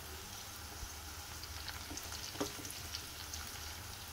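Curry leaves and raw mango pieces fry in hot oil in a pan, giving a quiet, steady crackling sizzle with a few brief spatters and no talk.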